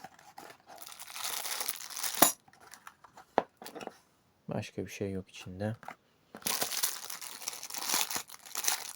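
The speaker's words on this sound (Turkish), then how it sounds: "Direkt açıyorum hemen poşetini." Close crinkling and tearing of a Beyblade toy's plastic packaging bag in bursts, with a short spoken phrase in the middle and more rustling after.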